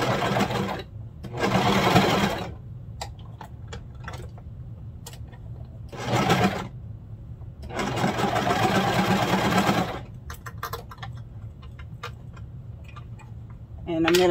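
A sewing machine stitches pajama fabric in short runs, its fast rhythmic mechanical chatter starting and stopping in several bursts close by, with quieter handling noise between the runs.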